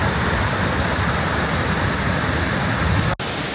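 Assaranca Waterfall pounds down in a loud, continuous broadband rush of falling water that fills the whole moment, heard up close and alone, with one sharp break near the end.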